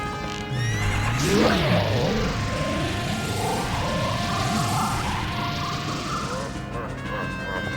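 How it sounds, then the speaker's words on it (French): A horse neighs loudly in the Ocarina of Time boss fight against Phantom Ganon, a long wavering whinny under a steady backdrop of game music and ambient sound. "Faut pas se tromper de cheval."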